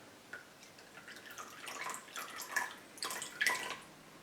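Vinegar poured into melted butter for roasted Cornish game hens, a soft close trickle and splash that swells with a few brighter spikes over about four seconds, with no talking.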